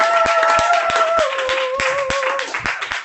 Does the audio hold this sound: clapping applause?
yes